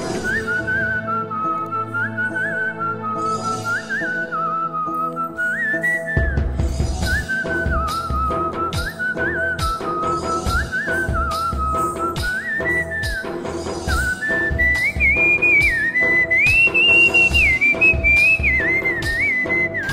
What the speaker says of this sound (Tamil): பரதநாட்டியம் ஆடிந்தே விசில் பண்ணேன்